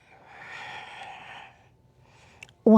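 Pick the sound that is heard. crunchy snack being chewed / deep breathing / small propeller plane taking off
deep breathing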